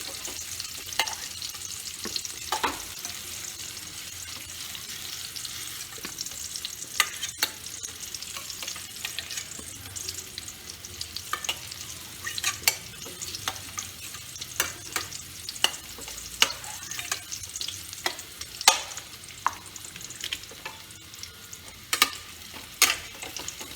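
Pieces of potato and pumpkin frying in hot oil in a pan while being turned, a soft continuous sizzle punctuated by irregular spatula scrapes and taps, close by with no talking.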